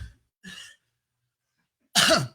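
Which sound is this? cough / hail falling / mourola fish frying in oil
cough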